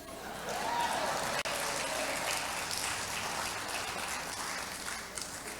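A church congregation claps together, a broad, even patter of many hands filling the room from nearby, with a brief sharp knock partway through and no speech on top.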